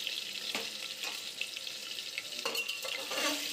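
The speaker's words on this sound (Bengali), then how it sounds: "1 চামচ লবণ, 1/2 চামচ হলুদ দিয়ে আগে আলুটাকে ভেজে নেব" Potatoes fry in hot oil seasoned with salt and turmeric, a steady close sizzle with a few scraping stirs of a spoon breaking through, no voices.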